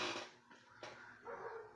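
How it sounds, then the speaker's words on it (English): Several dogs bark and yip in a few sharp bursts close by, with short pauses between them and a faint whimpering quality, in a home setting. "I'm sorry for the dogs barking, y'all."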